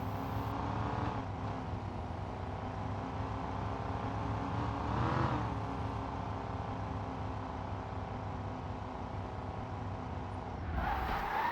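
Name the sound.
BMW diesel engine rattling, from the video game Car Simulator 2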